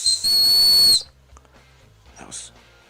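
A Bear Grylls survival whistle gives one loud, sustained shrill blast of nearly a second, followed by quiet handling noise and a faint second toot.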